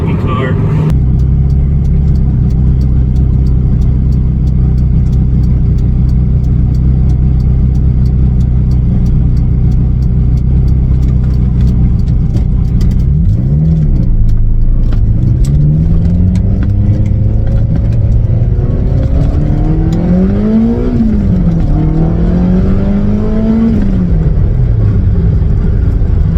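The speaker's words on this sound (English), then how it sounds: "So that's the Esprit driving." A Lotus Esprit V8 Twin Turbo drives along with a steady low engine rumble, then revs up and down in repeated rising and falling sweeps as it accelerates, loud and close, with some talk over it.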